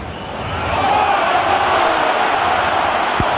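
A rugby stadium crowd at a New Zealand versus Ireland test match swells into a loud, sustained roar and murmur as a try is scored, building over the first second and holding steady.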